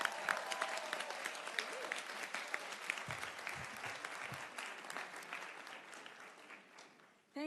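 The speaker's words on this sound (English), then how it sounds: "Sima, round of applause." Audience in a United Nations hall applauds the UN Women executive director at a Beijing+30 gender equality event, sustained clapping from a large crowd that thins toward the end before a voice begins.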